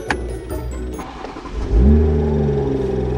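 A BMW M4 engine idles with a low rumble, then blips into a sharp rev that holds a loud, throaty drone close by, with no speech.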